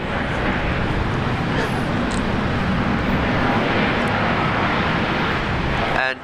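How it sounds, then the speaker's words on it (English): An Air New Zealand plane taking off from runway 19 left at Brisbane Airport, heard as a loud, steady broadband engine roar that fills the whole clip before cutting off abruptly at the end. "The first Air New Zealand flight on today's show. 951 up runway 19 left."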